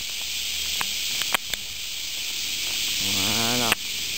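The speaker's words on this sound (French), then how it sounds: "C'est vraiment des très très grosses cigales, assez bruyantes." Very large, loud summer cicadas at a Mishima summer festival in Japan, a dense continuous high buzzing drone filling the whole stretch, with a brief pulsing rise near the end.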